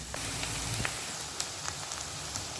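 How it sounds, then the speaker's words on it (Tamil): Garlic sautés in a pan for a Tamil village-style fish curry, giving a steady close sizzle and crackle with faint scattered pops throughout. "பூண்டையும் சேர்த்து நல்லா வதக்கிக்கிடுவோம். பூண்டு நல்லா வதங்கட்டும்."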